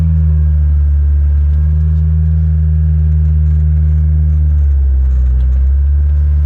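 A barn-find classic Ford Escort Mk2, running after decades with a fuel can on the bonnet, drives with a loud steady low engine drone and rumble heard from inside, easing slightly near the end.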